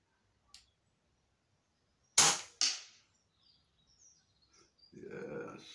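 An ATA Airborne air rifle fires outdoors in a light breeze, two sharp, loud cracks close together after a small earlier tick, then a brief muffled low sound near the end.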